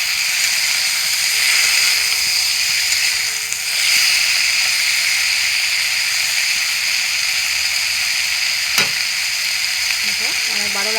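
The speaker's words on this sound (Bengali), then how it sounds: "5 মিনিট আমি এরকম নাড়াচাড়া করে ভেজে নেব" Small fish sizzle steadily in a pan with a constant loud hiss, and they are stirred now and then, with a sharp utensil clink near the end.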